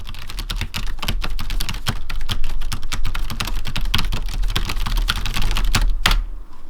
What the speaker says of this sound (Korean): 타자할 때 타감 키감을 한번 먼저 살펴보고 소리를 한번 같이 살펴보도록 하겠습니다